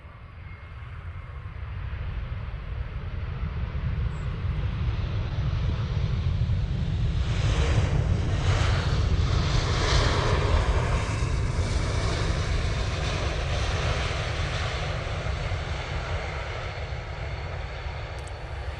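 Lufthansa Airbus A321 airliner at Manchester Airport, a broad roaring jet rumble that swells to a peak around the middle and then fades slowly, heard from outside with some wind on the microphone.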